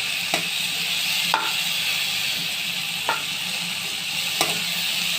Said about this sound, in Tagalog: Gisa-gisa na muna natin guys.